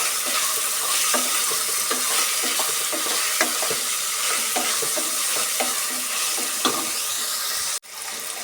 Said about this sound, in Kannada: ಒಂದೊಂದೇ ಪದಾರ್ಥಗಳನ್ನ ಸೇರಿಸ್ಕೊಂಡು ಈ ಥರ ಫ್ರೈ ಮಾಡಬೇಕು